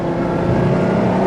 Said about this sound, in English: There's a lot of noise from the V12 engine going on behind me